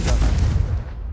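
A loud, deep explosive boom from the Confringo blasting spell in the video game Hogwarts Legacy, a single heavy burst that rumbles and then fades out within about a second.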